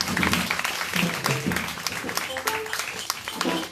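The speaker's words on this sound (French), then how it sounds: "Applaudissez pour elle." A congregation applauds during a celebratory Catholic Mass marking a religious community's twentieth anniversary, honouring a nun; lively, sustained clapping mixes with voices and some cheering throughout.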